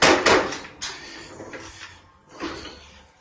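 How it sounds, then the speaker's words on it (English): Heavy steel watertight door aboard the USS North Carolina battleship being worked open and shut, giving a few loud metallic clunks and scraping thuds close by, with a quieter gap before a final bang. "But up here, this is a functional door."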